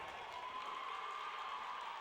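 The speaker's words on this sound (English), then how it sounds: "Richland crowd gives Kleffer a big hand, or not Forshee a big hand for the few minutes he's in." A steady wash of applause and crowd noise fills a high school basketball gym during a tournament game, even and sustained without breaks for the full couple of seconds.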